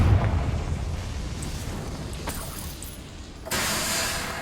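A Confringo spell explodes in Hogwarts Legacy with a broad, hissing rush of blast noise that fades, then a fresh burst of bright noise hits near the end.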